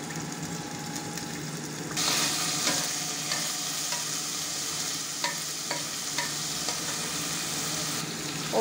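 Garlic and ginger frying in a little oil in a pan, a steady close sizzle with the sizzle jumping louder partway through and occasional clicks of stirring.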